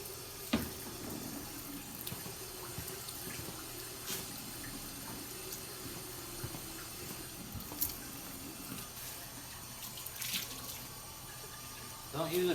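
Water running from a sink tap while a clean, damp sponge is rinsed, a steady faint trickle with soft splashes and scattered clunks throughout.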